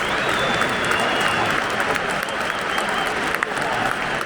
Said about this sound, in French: Termine l'échauffement ici, du côté des Mancuniens qui vont rentrer au vestiaire sous les applaudissements de la tribune active